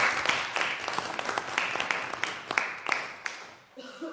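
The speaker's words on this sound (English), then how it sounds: "another round of applause for you" Applause from a small audience at the close of a legal jurisprudence jam session in Lisbon, a patter of distinct claps lasting several seconds before a voice speaks at the end.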